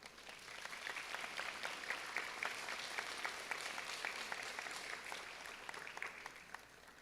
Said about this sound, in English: Please give them a round of applause for joining us today.